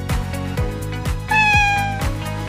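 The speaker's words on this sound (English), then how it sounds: "Cat." A cat meows once with a clear harmonic call, heard over a steady looping musical backing with regular beats.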